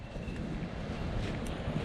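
Steady wind rushing at a backpacking campsite on the North Country Trail in Wisconsin, a continuous broadband roar buffeting close to the microphone, with no talk.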